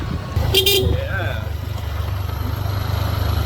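A single short vehicle horn toot sounds over the steady rumble of a motor scooter on a countryside road in Bohol. People talk around it.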